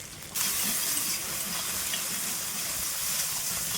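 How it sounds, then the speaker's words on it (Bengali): Spice masala with salt, turmeric and Kashmiri chilli powder sizzles as it is sautéed in a pan for a fish head and taro leaf curry. A steady, close hiss starts abruptly and carries on without talk. "এইবার মশলাটাকে ভালো করে কষিয়ে ঝোলের জন্য জল দিয়ে দেব"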